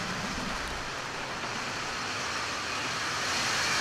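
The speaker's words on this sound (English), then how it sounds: "Liftoff to the Atlas NROL 101 mission for the National Reconnaissance Office." An Atlas V rocket lifts off on the NROL-101 mission for the National Reconnaissance Office, a dense, steady broadband roar that fills the clip without a break and swells slightly toward the end.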